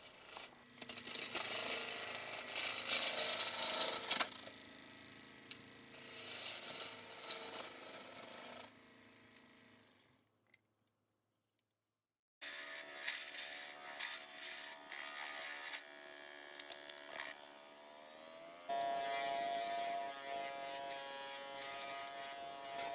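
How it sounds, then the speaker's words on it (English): A roughing gouge cutting a wooden stem on a spinning lathe gives a steady, hissing, rasping buzz. Two long stretches are broken by a short silent gap, and the second stretch shows pitch changes as the spindle speed varies. "Right now I'm using a roughing gouge to take off a lot of material quickly."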